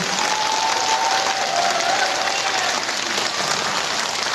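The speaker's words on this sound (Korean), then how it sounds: "훌륭한 저희 직원들께 뜨겁게 박수 한번 쳐주십시오" Warm applause from an assembled audience at a community center event honoring staff, a steady wash of clapping with a faint background tone, sustained at even loudness.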